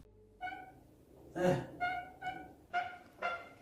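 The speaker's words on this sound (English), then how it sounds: "We think we have debunked the weird squeaky duck sound. I think it was this door here. I think it was the hinges." Squeaky door hinges in an abandoned building creak out a series of short, nasal, duck-like squawks, about five or six irregular bursts over faint background hiss.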